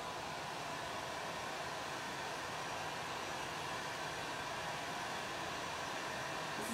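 A heat tool blows steadily and loudly at close range to warm wax over a painted Mad Hatter ombre design, a continuous broadband rush with no pauses.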